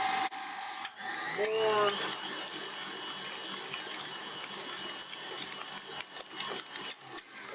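Electric mixer whirring steadily as it beats cream cheese frosting, a continuous motor drone running underneath a person talking.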